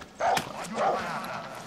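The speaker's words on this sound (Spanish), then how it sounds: "A ver, ¿hay un perro?" A dog in the video game Far Cry 6 gives two short barks or yips, close and moderately loud, with faint ambient game sound between them.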